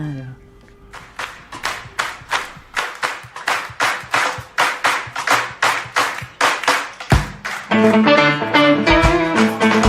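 An audience claps along to candombe on a radio show, about twenty loud, evenly spaced hand claps in a steady rhythm, then a burst of music with singing takes over near the end.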